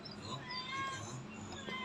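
Andy, a hungry cat, gives a drawn-out, wavering meow at close range, a single insistent call lasting nearly two seconds against faint room noise.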